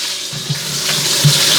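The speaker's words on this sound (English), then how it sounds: "So this is where I'm gonna start adding my water." Water pouring into a cooking pot holding ham hocks for Southern collard greens, a steady rushing stream with a few soft splashes and gurgles.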